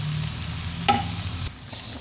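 Torn bread for bread kottu sizzles in a pan as it is stirred and mixed. A single sharp scrape of the utensil comes in the middle, and the frying hiss drops off near the end.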